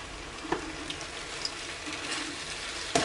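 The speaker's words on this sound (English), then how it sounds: "I'm already stirring." Pasta with pesto is stirred in a pot, giving soft wet scraping and squelching with light sizzle, fairly quiet, with a sharper clack near the end.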